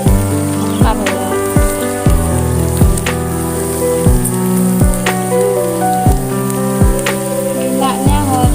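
Rengginang rice crackers frying in plenty of hot oil, a steady loud sizzle and bubbling with repeated sharp clinks of a utensil against the pan, while heavy rain may add to the wash of noise.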